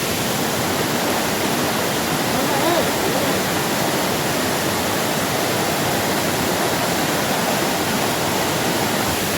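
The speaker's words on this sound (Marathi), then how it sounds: "हां काय तर मित्रांनो हा आहे वाघोबा वॉटरफॉल." Waghoba waterfall near Kaldurg fort in Palghar, a steady, loud roar of falling water that fills the whole stretch evenly without a break, heard close by.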